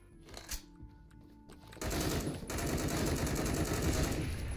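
A SCAR-H rifle in the video game Phantom Forces opens up in a sustained, loud rapid-fire stream of close shots, preceded by a few quieter clicks and handling sounds.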